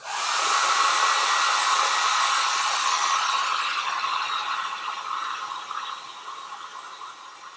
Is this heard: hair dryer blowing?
yes